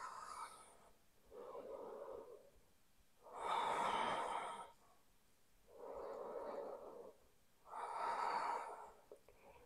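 Slow, deep yoga breathing, held in a warrior pose, alternates between long airy inhales and exhales in five distinct swells, close and fairly loud with no talking.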